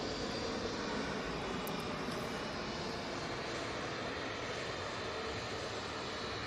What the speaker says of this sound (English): that's a little citation now on the runway